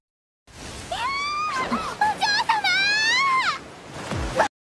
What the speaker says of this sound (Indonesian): Pharma mendengar teriakan Lotte dan ternyata Blanche terbawa arus ke sungai yang semakin jauh.